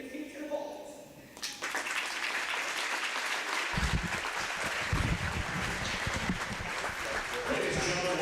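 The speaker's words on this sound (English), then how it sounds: "one more big round of applause for our Cheyenne seniors" Applause fills a school gym at a high school volleyball game as seniors are honored. Crowd clapping starts partway in and swells into a loud, sustained roar while an announcer's amplified voice carries over it.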